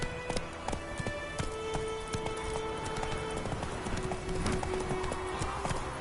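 Roach the horse galloping in The Witcher video game, a steady fast clip-clop of hooves running on for the whole stretch, fairly near, mixed with game ambience and a faint whinny.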